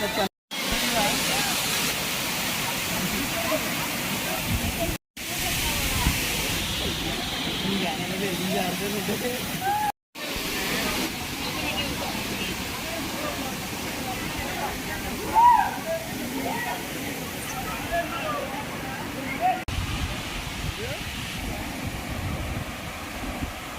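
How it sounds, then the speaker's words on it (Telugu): Constant rushing water hiss from Kothapalli waterfalls fills the scene with brief cutouts, while a person talks over the roar. "ఇదే వాటర్ ఫాల్"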